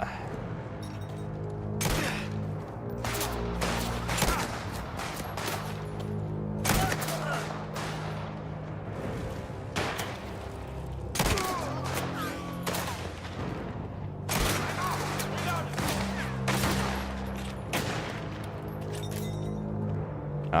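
Gunfire in the Mafia video game: repeated bursts of loud, close shots and rapid volleys with booming reports, coming in clusters across the stretch, while a voice talks intermittently underneath.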